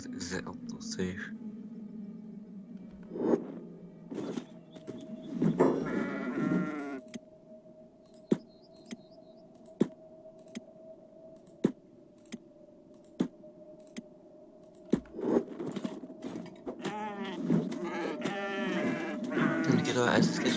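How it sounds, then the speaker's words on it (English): Goats bleat repeatedly in the game Kenshi, wavering cries rising and falling among sharp clicks and keyboard taps, with people talking over parts of it. "Is that goats?"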